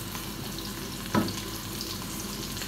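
Garlic and onion frying in a little oil in a pan for adobong kangkong, a steady broadband sizzle throughout with one brief louder clatter midway, no talking.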